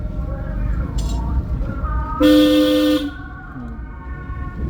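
A car horn blares once for nearly a second, loud and close, amid engine rumble and people talking during a driving lesson.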